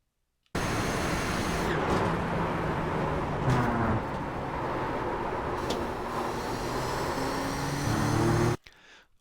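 Nissan GTP ZX-T race car lapping Suzuka Grand Prix circuit in iRacing, a steady loud engine drone at speed with gear shifts and pitch changes, ending abruptly.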